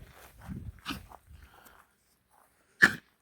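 A dog rushing about on a walk makes snuffling, panting noises, then falls quiet before one abrupt, loud choking gulp or cough-like snort close by.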